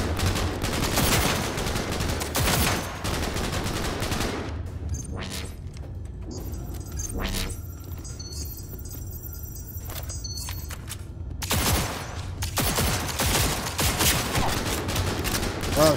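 Sustained gunfire in the Cyberpunk 2077 combat, dense bursts of automatic shots in the opening seconds, then a quieter stretch with sparse shots and electronic tones before heavy firing returns toward the end.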